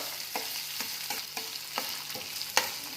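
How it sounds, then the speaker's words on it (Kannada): Chopped capsicum frying in a pan, a soft continuous sizzle broken by a series of quick, regular scrapes and taps of a spoon stirring, close and fairly quiet, with no voices. "ಅದನ್ನು ಹಾಕ್ತಾ ಇದ್ದೀನಿ ನೋಡಿ ಇವು ಇವಾಗ ಸ್ವಲ್ಪ ಮೆತ್ತಗಾಗೋವರೆಗೂ ಕರ್ಕೋಬೇಕು"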